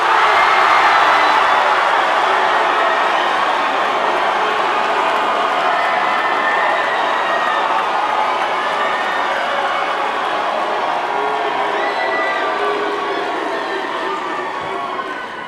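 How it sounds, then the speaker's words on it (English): A large graduation crowd cheers, whoops and claps for the McIntire School of Commerce, a dense sustained roar that fills the space and slowly fades toward the end. "I'd like everyone to cheer for this next school"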